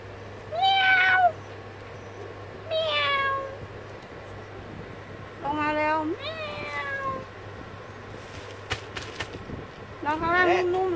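A cat gives five or six loud, clear meows, each drawn out and spaced a second or two apart, over a low steady hum indoors.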